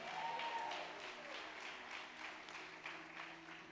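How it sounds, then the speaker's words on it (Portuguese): A church congregation at a family worship service breaks into applause, a dense steady wash of many hands clapping that carries on throughout, with a faint tonal hum beneath and no clear cheering voices standing out. "aplauda o Senhor, dá um grito de vitória em nome de Jesus"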